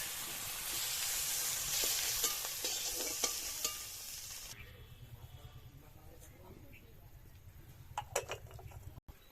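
Prawns frying in hot oil for chingri malai curry, a loud sizzle with utensil scrapes that drops off halfway to a quieter bubbling and clatter as they are lifted out, with a voice speaking over it.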